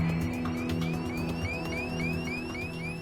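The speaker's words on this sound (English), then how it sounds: "That's the cabin altitude warning." A steady, repeating electronic cabin altitude warning tone pulses in the cockpit of a 1999 Learjet 35 business jet over a constant low engine drone, with no voices.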